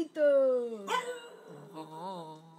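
A dog gives a couple of close, high yipping barks and whimpers, with a voice reacting in between.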